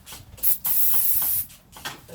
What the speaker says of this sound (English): I'm gonna spray some freeze off on it.